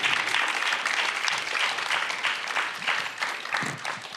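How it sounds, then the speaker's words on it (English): Audience applause for a panel at the Meeting in the Middle 2025 event, a steady wash of many hands clapping at moderate volume that carries evenly for several seconds and eases slightly toward the end. "Please give a round of applause to our panel."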